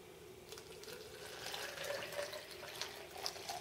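Water from a tap or bottle pours steadily into a plastic protein shaker mixer cup, a soft, faint splashing trickle lasting a few seconds with no talking.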